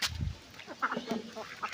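A few short duck quacks close by, quick and uneven, over light background noise.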